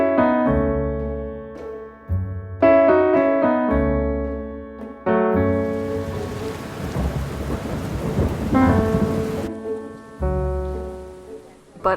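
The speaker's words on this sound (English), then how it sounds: "after realizing the rain was not going to stop" Steady rain with rumbling thunder over a town in Salem, Massachusetts in autumn, a broad downpour wash swelling and fading, with sustained tonal music layered on top throughout.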